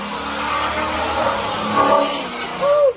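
A Ford Mustang converted from automatic to manual transmission drives along the road, its engine revving steadily and swelling louder near the end as it accelerates past.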